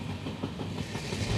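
A train rolls past on the opposite track during a ride through the Walayar ghat section between Palakkad and Coimbatore in Kerala, its steady rumble and faint clickety-clack rhythm running close and continuous with no voices.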